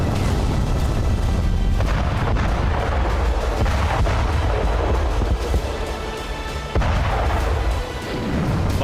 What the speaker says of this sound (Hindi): मकीवका पर M142 हाइमार्स मल्टीपल रॉकेट लॉन्चर से ताबड़तोड़ रॉकेट दागे गए